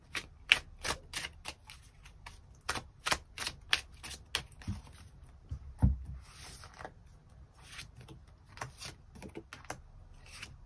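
Tarot cards being shuffled and drawn, heard as a fast, irregular run of crisp snaps and riffles close to the mic, with brief pauses between bursts and no talking.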